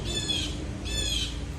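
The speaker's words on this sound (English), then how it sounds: "what you're hearing is the blue jays, because they make a lot of noise when they see hawks." Blue jays squawk outdoors at a nearby hawk: two harsh, raspy calls in quick succession, fairly close and loud, with steady outdoor background noise.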